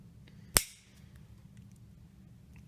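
A brand-new Colt Single Action Army .45 revolver fires Ultramax 200-grain ammunition: one sharp, cracking shot with a short decaying tail, then near silence.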